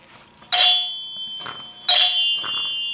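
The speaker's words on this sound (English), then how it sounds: "3 chimes on this one." Chimes on a 1974 Gottlieb Magnetron pinball machine strike twice, each hit a bright metallic ding with a clear ringing tone that sustains and slowly decays, with a softer clink between the strikes.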